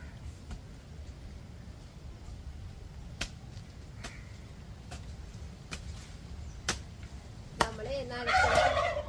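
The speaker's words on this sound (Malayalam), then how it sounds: "നമ്മുടെ ടർക്കികളെ എന്റെ സൗണ്ട് കേട്ട് കഴിഞ്ഞാൽ ഒപ്പം സംസാരിക്കും." Domestic turkeys gobble in short, rough bursts toward the end, loud and close, after a stretch of low background rumble broken by sharp, scattered clicks.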